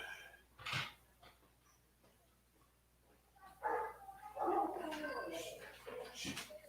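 Dogs barking in a home workshop during a fishing rod flag-wrap session, a few sharp barks and whimpering noises at moderate distance, mixed with low talk and breathing.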